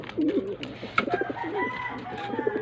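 Pigeons coo repeatedly close by in soft throaty phrases in a backyard loft, with occasional clicks and chirps in the background.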